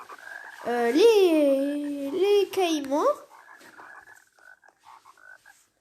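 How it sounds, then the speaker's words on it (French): A frog gives a loud, close, drawn-out croak with a bending pitch, then a brief second call, followed by faint quieter sounds as a person speaks briefly. "La grenouille, classique."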